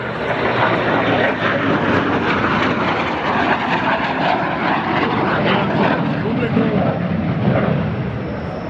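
Propeller aircraft making a low, loud pass at an open-day airshow at Batajnica airfield, a dense continuous engine roar throughout, with a voice commentating over it.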